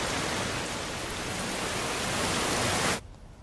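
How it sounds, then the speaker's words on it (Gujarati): Heavy monsoon rain pours down in Bardoli, Surat district, a dense, loud, even hiss that holds steady and then cuts off abruptly near the end. "સુરત જિલ્લામાં બારડોલીમાં ભારે વરસાદ વરસી રહ્યો છે"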